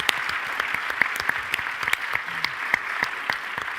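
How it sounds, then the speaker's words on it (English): Audience applause at an Indigenous youth event, steady dense clapping from a sizable crowd at close range, continuous for several seconds with no talking over it. "I think that deserves a round of applause"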